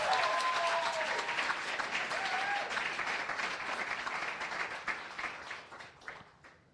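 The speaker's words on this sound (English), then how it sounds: "How about let's give one more round of applause for everyone." Sustained audience applause at a fellowship demo-day event, many people clapping steadily at moderate volume before gradually thinning and fading out.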